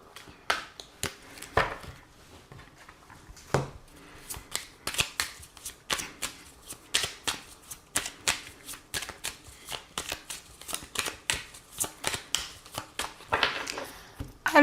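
Oracle cards of the Béline deck being shuffled by hand, up close: a long run of quick papery riffles and slaps in an uneven rhythm, with brief pauses between bursts.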